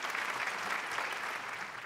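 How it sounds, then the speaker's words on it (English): Audience applause at an award show finale, dense continuous clapping from a crowd, steady and moderately loud throughout with no talk. "Keep those claps going, guys."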